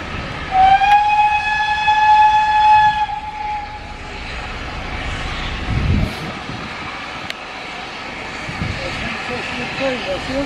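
A loud train horn blares for a few seconds at Watchet station on the West Somerset Railway, then rumble continues as locomotives and coaches pass nearby, with voices and crowd noise around.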